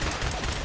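A brief burst of gunfire in Fallout 4, dense and moderately loud, filling a fraction of a second of combat noise.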